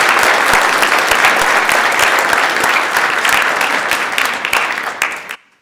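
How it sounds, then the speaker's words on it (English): Senators and guests in the Senate chamber give a loud, dense round of applause that holds steady and then tapers off quickly into silence. "please give them a big round of applause"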